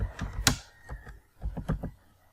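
Keys are pressed on a computer keyboard to type a search term, a handful of distinct clacking keystrokes in short uneven bursts, close and fairly loud against a quiet background.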